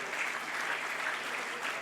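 An audience claps continuously at a humour talk, a steady, fairly soft wash of applause from a crowd, without distinct individual claps.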